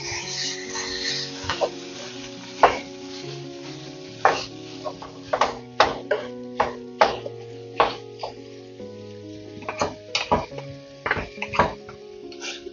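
Ground beef fries in a pan as a utensil breaks it up, with repeated distinct scraping knocks against the pan over a steady sizzle, close and moderately loud, with no speech.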